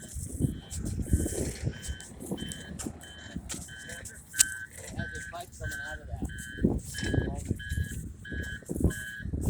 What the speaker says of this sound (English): Lots of noises. Lots of construction.